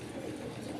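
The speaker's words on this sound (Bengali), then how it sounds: "এগুলো হচ্ছে একজোড়া গুল্লা কবুতর" A pair of Gulla pigeons, an old local breed, coo in a brief, soft, low murmur heard up close with no talk.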